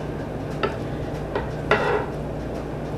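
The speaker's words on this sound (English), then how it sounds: "I just put it on the platter and give the sauce a quick whisk" Braised tarragon chicken is plated onto a platter and its sauce whisked, giving a few soft clinks and scrapes of utensils against dishes over a steady low kitchen hum.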